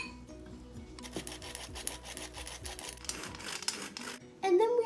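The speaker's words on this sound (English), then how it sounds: "So we're going to take our sifter, and first we are going to be sifting our powdered sugar." Powdered sugar is sifted through a hand sifter, giving a continuous soft rasping and rubbing with rhythmic scraping, faint and close, ending in a brief louder sound.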